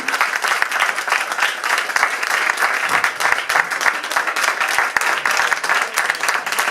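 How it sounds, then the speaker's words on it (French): An audience at an evening party applauds loudly and steadily, a dense, continuous clatter of many hands clapping close by for several seconds. "on peut s'applaudir bien fort s'il vous plaît"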